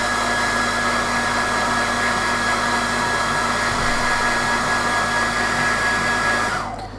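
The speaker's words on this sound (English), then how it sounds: "So, hairdryer again." A hair dryer runs loud and steady, close by, drying paint on a Sons of Horus miniature, its constant whirring roar and high whine holding for several seconds before cutting off at the end.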